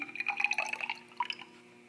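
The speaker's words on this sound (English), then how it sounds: "So really quickly, I'm going to pour it." Acid poured into a lab container for a titration gives a short run of light, close trickling and dripping that quickly tapers off into quiet.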